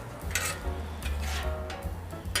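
Seasonings being mixed into food on a Camp Chef flat top grill for a Denver omelette, a steady sizzle with a spatula scraping and tapping the hot griddle in several short strokes, close and alone.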